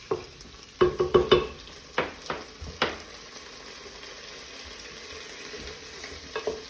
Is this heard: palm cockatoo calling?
no